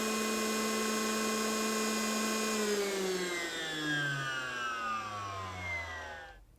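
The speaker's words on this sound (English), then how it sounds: "the motor now continues to run at full speed." A DeWalt DCN890 cordless concrete nailer's motor runs at full speed as a steady high whine, then winds down with falling pitch and cuts off at the end.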